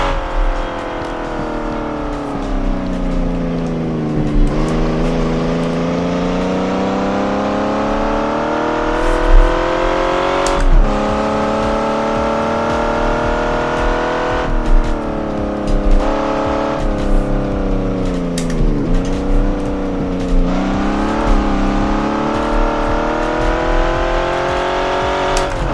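Vintage GT sports car engine held at full throttle on a street circuit around Napoli, a loud continuous harmonic roar rising and falling in pitch through the revs, with brief shifts and bursts, steady and close throughout.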